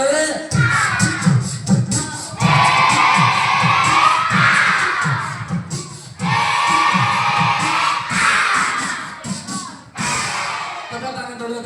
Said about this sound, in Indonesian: Tepuk tangan dulu untuk Masnya dari tadi dengerin Bang